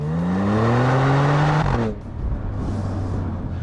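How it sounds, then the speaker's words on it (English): A 2022 Genesis G70 sports sedan engine revs hard with a rising, throaty exhaust note, then abruptly drops off into a lower, rumbling idle-like drone. "And that exhaust note sounds amazing."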